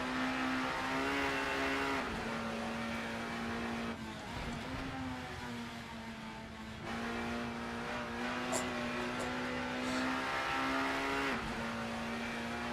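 Nineties British Touring Car engines, including a Ford V6, race in Assetto Corsa: a loud, sustained engine drone with steady harmonics, brief dips at gear changes and a few faint chirps in the background.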